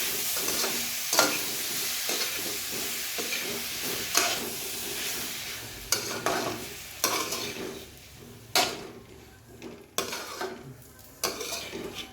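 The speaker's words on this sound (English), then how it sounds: "So now is the time to add the tomatoes. Just give it a good toss." Tomatoes sizzle and are tossed with fried onions in a pan for butter chicken, a steady hiss of frying broken by repeated scraping stirs and clacks of a utensil, close and moderately loud with no talking.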